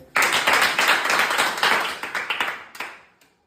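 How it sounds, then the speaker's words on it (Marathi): A small group claps together for a child named Rajnandini after she solves a stick puzzle, a burst of dense, close handclaps that starts abruptly, holds for about three seconds, then thins and fades out. "राजनंदिनीसाठी एकदा टाळ्या होऊ द्या"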